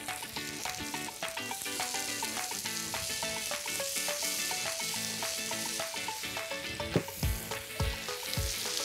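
Shrimp and papaya stir-fry in a pan with bell pepper and soy sauce, a constant sizzle under rhythmic tonal clatter, with a few heavier thumps near the end and no speech.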